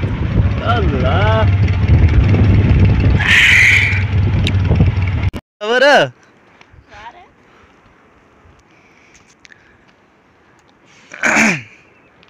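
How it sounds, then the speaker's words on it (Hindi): Strong wind on a border road near the Line of Control in Kashmir's Neelum Valley roars and buffets loudly for about five seconds under a voice, then cuts off abruptly, leaving a quiet background with a few brief sounds. "यहाँ पे इतनी तेज़ हवा होती है ना, ये देखें ना, आवाज़ सुने हवा की"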